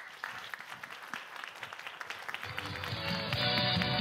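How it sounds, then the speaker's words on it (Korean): A church congregation claps to welcome an arriving pastor, a moderate, scattered round of hands that fades into a sustained tonal, music-like sound in the last seconds. "박수로 맞겠습니다."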